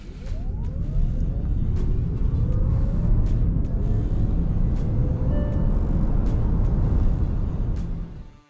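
A Kia Syros EV launching hard from 0 to 100 km/h, a loud, steady rumble of road and tyre noise with a rising whine that builds over several seconds, then eases off at the end.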